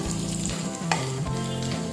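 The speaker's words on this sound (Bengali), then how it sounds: "সমস্ত উপকরণ দিয়ে ভালো করে এটা একটু ফ্রাই করে নেব।" Ingredients and coconut frying in a pan for chana dal, with close scraping spatula strokes over a steady sizzle for a couple of seconds and no talk.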